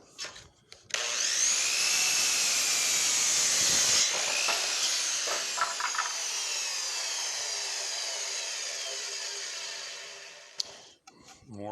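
A saw rips through wood for a homemade blanket ladder, a steady loud grinding whine that runs for about ten seconds before cutting off abruptly.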